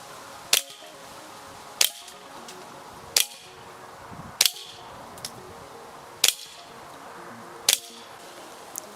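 A Colt Mark IV Cybergun airsoft pistol set to about 240 fps fires seven single sharp snapping shots at goggles. The shots are evenly spaced, roughly one every 1.3 seconds, and sound close and crisp.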